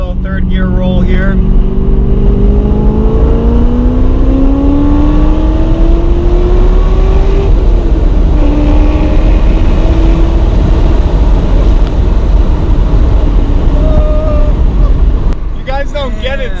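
An LS-swapped Porsche with a V8 engine pulls hard in a third gear roll, its engine note rising steadily and loud from inside the cabin, with brief talk at the start and end.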